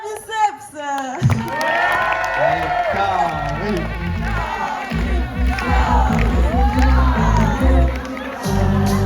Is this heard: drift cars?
no